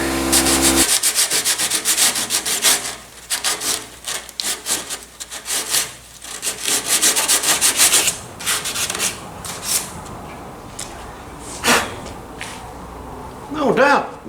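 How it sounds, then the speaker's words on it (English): A DA sander works over a repaired automotive header panel, a loud close rasping, rubbing drone in bursts that stops and starts, with brief pauses near the end. "Grab a little DA here, do a little sanding."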